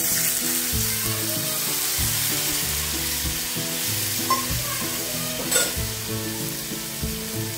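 A little water goes into a sizzling onion mixture in a pan, producing a strong continuous sizzle and bubbling with occasional clatters, while steady background music plays underneath and no one speaks.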